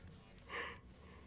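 A single drawn-out yawn from a man during a fantasy football livestream, a breathy swell that peaks and fades, close and fairly quiet.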